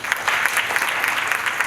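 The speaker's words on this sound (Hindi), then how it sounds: "दीदी के हिसाब से जोरदार तालियां।" A brief, loud burst of clapping from a group at a network marketing gathering, dense and close with slightly uneven pulses throughout.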